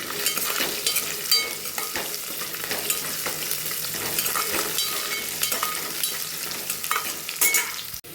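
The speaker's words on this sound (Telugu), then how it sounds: "ఫస్ట్ క్యారెట్ కాసేపు వేయించుకోవాలి." Carrots frying with mint in a pan for a dal tadka, giving a steady dense sizzle with scattered stirring scrapes throughout, close and continuous with no talking.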